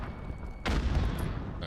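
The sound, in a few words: gunshot in video game Modern Warfare 2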